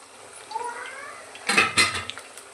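Garelu frying in a pan over a medium flame, with a brief metal clatter and scrape as they are flipped, over a soft sizzle, close up.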